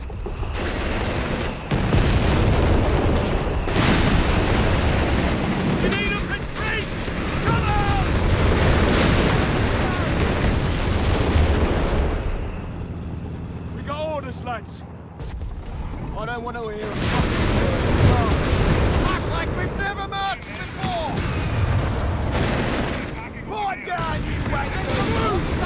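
Artillery fire in the Company of Heroes 3 war game during a British 4v4 battle, with dense rumbling booms and gunfire running through most of the clip under game voice lines.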